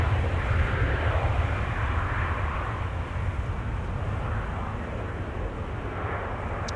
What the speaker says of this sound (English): this is runway 18 left being used for departures